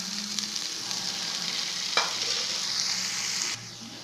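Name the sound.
stirring fried urad dal in sesame oil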